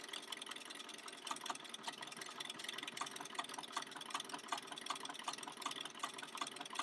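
A Bernina 5 Series sewing machine stitches a buttonhole at a slow, steady speed, giving a continuous close mechanical whir with a quick, regular ticking of the needle and no talking.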